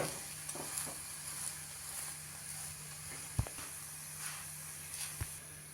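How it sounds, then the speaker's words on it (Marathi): A rice masala roti roasting in oil on a hot pan, a steady close sizzle and hiss with occasional soft scrapes and two sharp knocks as it is turned. "रोटी भाजून घेऊया उलटवून बघूया मस्त"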